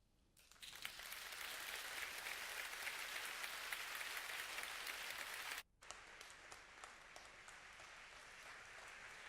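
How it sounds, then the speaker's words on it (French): Audience applause rises quickly and holds as a dense, sustained clapping at a talk about women's empowerment, breaking off briefly before carrying on, with no speech over it. "s'il vous plaît, encore plus d'applaudissements pour Véronique"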